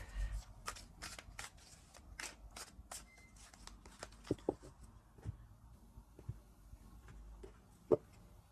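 A tarot deck shuffled by hand in a quiet room, brisk papery riffles at a quick regular pace, then a few sharper card taps and slaps as the shuffling slows, close and soft.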